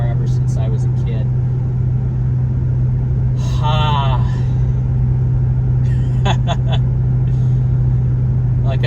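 Chrysler 300C SRT8 V8 engine and exhaust while driving, a steady low rumble throughout, mostly masked by someone talking over it.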